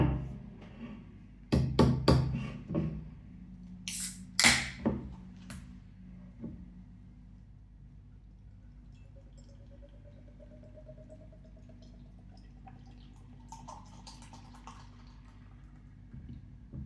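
A can of Stallhagen Hopper Bohemian Pils is cracked open with a few sharp clicks and a hiss, then beer pours with a faint rising gurgle as it fills a glass in a quiet room.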